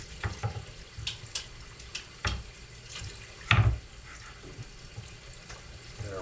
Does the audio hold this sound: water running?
yes